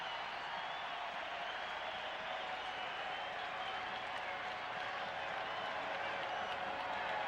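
A large stadium crowd at a 1992 World Series baseball game between the Braves and Blue Jays roars and claps in a steady, distant wash, with an announcer talking over it.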